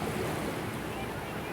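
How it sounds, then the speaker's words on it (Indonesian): Strong ocean waves roar steadily at sea, a dense, continuous wash of surf mixed with wind buffeting the microphone, loud and unbroken throughout with no distinct individual breaks. "ombak yang kencang seperti ini"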